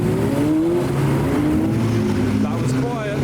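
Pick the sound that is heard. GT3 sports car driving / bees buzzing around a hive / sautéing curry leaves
GT3 sports car driving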